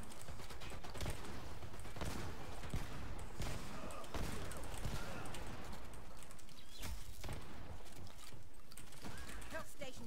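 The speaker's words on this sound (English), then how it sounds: "Explosions." Continuous loud gunfire and explosions in the online shooter Dirty Bomb during an underground defence match, a dense steady barrage of cracks and booms with no pause.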